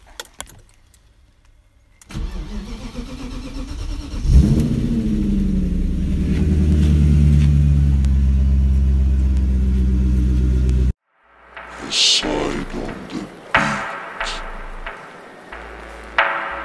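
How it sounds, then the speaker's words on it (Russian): A car engine cold-starts with a cranking burst, then settles into a loud, steady idle; after it cuts off, several sharp revs and rumbles follow, close by with no talk. "А вас ждет еще один холодный пуск."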